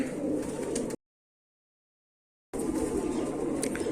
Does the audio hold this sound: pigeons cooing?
yes